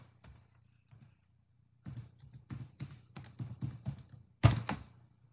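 A password is typed on a computer keyboard in scattered bursts of close, crisp key taps, ending in one heavier keystroke.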